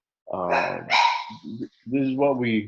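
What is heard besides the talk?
dogs barking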